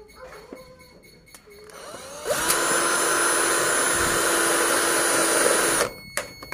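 Power drill driving light-steel bolts while building a homemade metal dustpan, a steady loud whine lasting about three and a half seconds after a few faint clicks, then cutting off abruptly.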